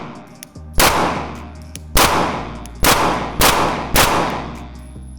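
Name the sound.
gunshots from a Glock 19x pistol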